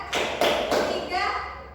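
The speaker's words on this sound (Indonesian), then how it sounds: "Tepuk satu, tepuk dua, tepuk tiga," Classroom of students clapping in a counted rhythm, a few distinct sharp claps in sequence close by, with children's voices and talk mixed in.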